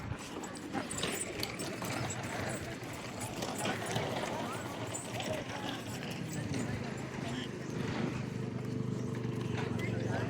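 Bulls pull carts in a village bullock cart race, their hooves making a continuous clattering run beneath crowd noise and people talking.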